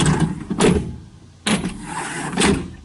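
Front door of a 2021 Kubota SSV65 skid steer being worked twice, each cycle a close, loud mechanical sweep and thud with a brief hiss, repeated after a pause.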